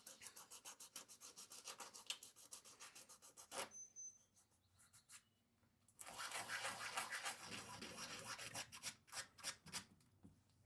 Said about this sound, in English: these tiny little itty bitty stick sanders, which are great for smoothing up rough areas like this